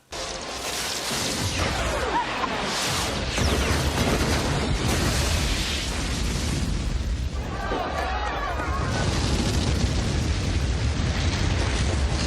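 A massive, sustained explosion of the White House in a film scene roars continuously, with rumbling blasts and crackling debris layered over a dense, loud cinematic boom.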